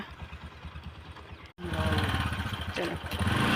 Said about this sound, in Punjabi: ਪਾਪਾ ਨੇ ਟਰੈਕਟਰ ਕੱਢਿਆ ਲਿਜਾਣ ਨੂੰ ਤੈਨੂੰ